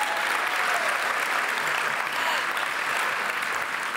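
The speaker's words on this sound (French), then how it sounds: "applaudir pour notre nation?" Steady audience applause fills a hall at the 2017 Trophées Francophones du Cinéma awards ceremony, a dense, even clatter of many hands sustained throughout without a break.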